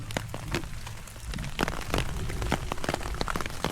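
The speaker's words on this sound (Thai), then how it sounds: "เพราะว่าฝนมันตกนั่นเองนะครับ" Steady rain pattering on a tent or tarp at a forest campsite during a jungle hike, close and continuous with scattered louder drips, no voices.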